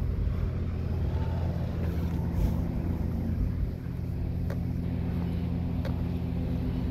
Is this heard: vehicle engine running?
yes